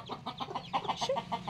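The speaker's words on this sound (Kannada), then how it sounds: "ಹೋಗು ಹುಂಜ, ಹೋಗು. ಅದು ಹುಂಜ." A rooster clucking close by in a series of short, evenly spaced calls, fairly faint, with no talking.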